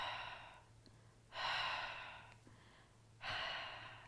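Slow, deep breaths during a grounding exercise: two long, soft airy exhales with a quiet inhale between them, heard close and alone.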